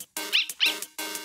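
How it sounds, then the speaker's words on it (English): Dog barks from the Undertale video game, three quick, bright yapping bursts in close succession, clear and without talk over them. "There's a dog there."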